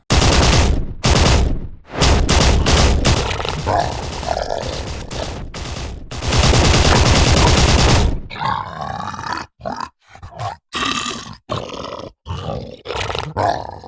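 Animated Hindi story battle against a mutant alien creature: loud, dense bursts of automatic gunfire with growls and roars blended in, then a choppier stretch of scattered shots and impacts.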